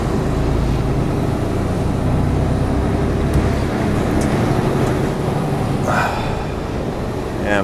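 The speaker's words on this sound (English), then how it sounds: "Let's see what the traffic's like now coming out of Newport." Road traffic leaving Newport, heard from inside a truck cab: a continuous loud engine and road rumble with passing vehicles, plus a rising whine late on as something passes close.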